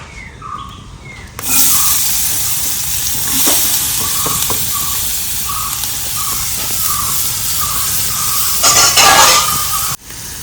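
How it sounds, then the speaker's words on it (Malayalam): Onion sautéing in a hot pan for a breakfast dish, a loud continuous sizzle and hiss starting abruptly, with occasional stirring scrapes and a brief spatter surge near the end, no talk. "അപ്പം ഈ ഉള്ളി വഴറ്റിയിട്ട് ഇതിലിടാണ്"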